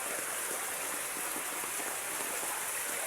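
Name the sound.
rain falling during flooding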